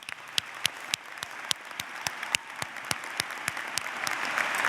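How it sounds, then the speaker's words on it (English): Graduates are applauded at a commencement ceremony, a crowd clapping with sharp individual claps standing out early, then swelling into a fuller, louder ovation toward the end. "you deserve a big round of applause"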